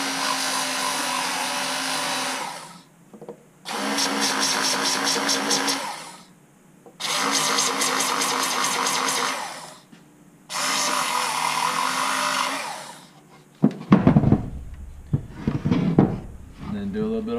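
A power sander works on a chainsaw scabbard part in four loud, steady whirring bursts, each a few seconds long with short pauses between, followed by quieter clattering handling noise.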